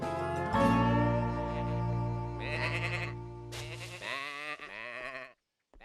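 Several cartoon sheep bleat in turn, long wavering cries close by, one after another over a low steady hum, ending in quiet.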